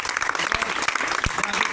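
A school audience claps together in a dense, even burst of applause, with a voice speaking over it.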